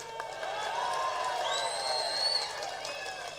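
A crowd at a Tamil Nadu BJP political rally claps and cheers, a steady distant wash of applause with scattered whistles and shouts rising above it, moderately loud.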